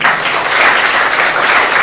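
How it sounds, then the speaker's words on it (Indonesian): A church congregation bursts into loud, close, continuous clapping during a Sunday service, a brief dense round of applause. "Tepuk tangan untuk Tuhan."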